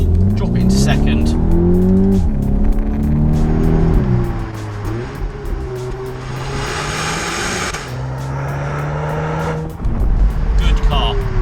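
A 300 bhp VW T-Roc R accelerating hard in race mode in second gear on a B road, the engine note climbing loudly in rising sweeps with brief dips at shifts, heard from inside the cabin while someone talks over it.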